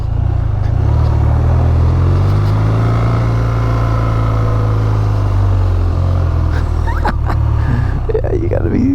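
A BMW R12 Option 719 motorcycle engine rumbles loud and close, holding a deep steady drone with slight swells in pitch, while someone talks over it.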